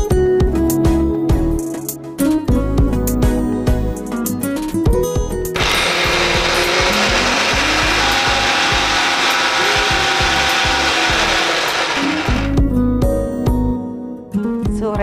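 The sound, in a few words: mixer grinder running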